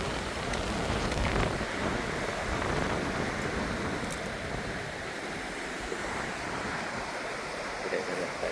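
A river rushes in a steady, continuous wash nearby on the Base Torres trek in Torres del Paine National Park, Chilean Patagonia, with no voices and no breaks in the sound.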